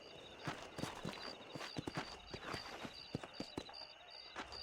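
Horse hooves clip-clopping in Red Dead Redemption, a quick run of sharp, distinct hoof strikes on hard ground under a faint steady hum, fairly quiet with no talking.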